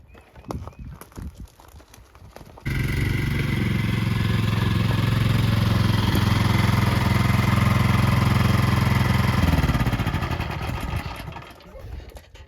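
A rebuilt Suzuki GS motorcycle engine starts after a few seconds of handling noise, then idles with a steady, loud, close rumble before the revs change and it fades near the end.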